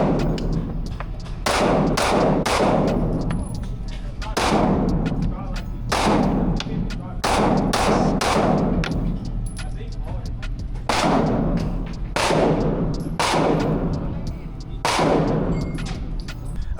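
Mossberg 590 shotgun firing 3 inch shells at an outdoor range, about a dozen loud booming shots at irregular spacing, each with a long ringing decay and no talking.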